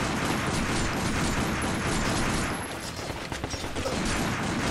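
Rapid bursts of gunfire in the Binary Domain video game, dense and continuous for most of the stretch before thinning into scattered shots near the end, with no talk over it.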